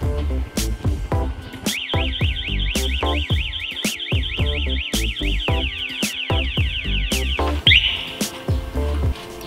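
A Cyclone C-11 talking motorcycle anti-theft alarm siren warbles, rapidly rising and falling for several seconds over heavy rhythmic thumping beats, then cuts off.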